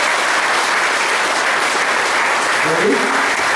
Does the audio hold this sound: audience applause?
yes